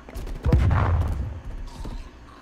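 AK74 rifle gunshots in Call of Duty: Cold War, a sharp burst of rapid automatic fire followed by a rumbling boom and a few fainter scattered shots, close and loud.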